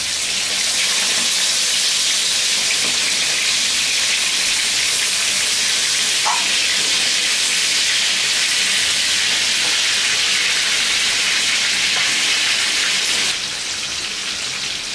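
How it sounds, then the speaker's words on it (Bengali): Rohu fish head fries in oil in a pan with a loud, unbroken, rain-like crackling hiss that holds steady for most of the time and then drops away near the end. "এরকম একটু ভাজা হয়ে গেলে এটাকে আমার এখন চুলাটা বন্ধ করে দিছি"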